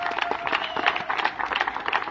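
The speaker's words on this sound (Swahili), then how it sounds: "Tumpigie makofi." Audience applause breaks out in a parliamentary gathering, a dense, steady patter of many hands clapping at moderate volume throughout, with faint voices mixed in.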